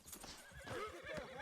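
An agitated horse, a Missouri Fox Trotter in the Red Dead Redemption video game, whinnies loudly and close while its hooves clop and shuffle beneath the neighing throughout.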